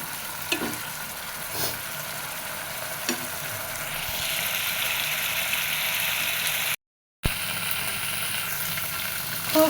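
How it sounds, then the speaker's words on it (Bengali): Spice masala fries in a pan as it is cooked down, a continuous close sizzle with occasional stirring scrapes, interrupted by a short dropout near the end. "আর একটু কষাবো, পুরো ঝোলটা একদম শুকায় ফেলবো"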